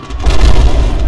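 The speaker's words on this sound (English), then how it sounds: "We'll get a picture and we'll blow them up too." A bomb detonating after being dropped from a plane in the video game Bomber Crew, a deep low rumbling boom that swells quickly and sustains loudly through the moment.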